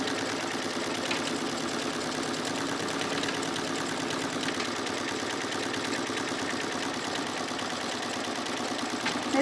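An embroidery machine sewing a basting stitch over tape while stitching an in-the-hoop tissue holder, a steady rapid mechanical whir and needle chatter running unbroken and close.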